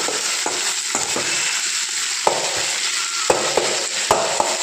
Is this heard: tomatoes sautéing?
yes